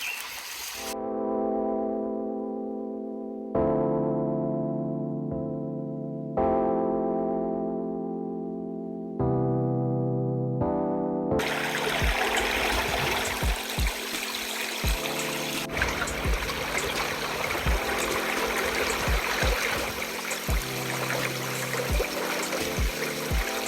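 Wading through a flowing stream, with steady broadband rushing and splashing water filling the second half, after a few deep, decaying tonal hums at the start; no talking.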